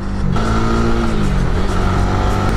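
A Honda RSX150 motorcycle engine runs loud and close, a steady droning hum whose pitch dips and shifts slightly as the bike moves, with no talking.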